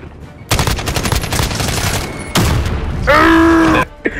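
Gunfire in the Modern Warfare video game, with loud sustained automatic bursts and a short pause between them, followed by a sharp tonal whine near the end.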